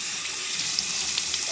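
Tap water running steadily into a sink while a makeup brush is rinsed under it, a soft continuous splashing stream heard close and alone, with a few faint droplet splatters.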